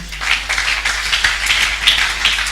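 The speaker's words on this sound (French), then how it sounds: "Applaudissons pour nous-mêmes." An audience at a 2018 Christian women's convention applauds together, a dense, sustained wash of clapping from a large crowd that holds steady for several seconds with no talking.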